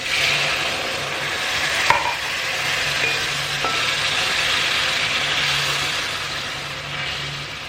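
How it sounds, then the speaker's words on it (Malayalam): Boiling water poured into frying sambar powder gravy for Kerala hotel-style porotta curry, giving a loud, continuous hissing sizzle that holds steady for several seconds, with no voices. "ഇനി ഇതിലോട്ട് തിളച്ച വെള്ളം 1 കപ്പ്, അതായത് 250 ml തിളച്ച വെള്ളം,"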